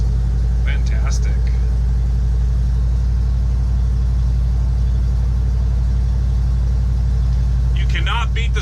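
A carbureted truck engine without a catalytic converter idles steadily up close, a low constant rumble throughout with faint clinks at the edges.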